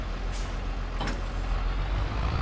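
A tractor parks in Farming Simulator 22 with a steady low engine rumble, and a short, bright air-brake hiss bursts out near the middle of the clip.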